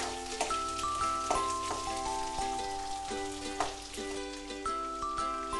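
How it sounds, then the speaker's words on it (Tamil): Finely chopped small shallots (100 g) sauté in a pan while being browned for a traditional dried-fish curry, a soft steady sizzle with faint stirring taps and a tonal hum running underneath, no talking. "இது நல்லா கோல்டன் ப்ரௌன் வர வரைக்கும் நம்ம வதக்கிக்கலாம்"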